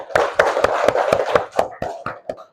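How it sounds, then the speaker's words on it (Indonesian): A classroom of students claps together on cue from the teacher, a run of about ten sharp, fairly loud hand claps in a loose rhythm that thins out toward the end. "yuk tepuk tangan"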